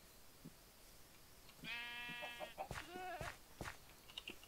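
A sheep in the Minecraft video game bleats twice in quick succession, a wavering nasal baa heard clearly over faint background noise with a few soft clicks.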